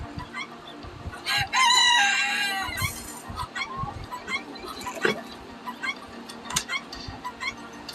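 Backyard chickens cluck in short bursts close by while a rooster crows loudly once, the hens carrying on softly afterward with scattered clucks.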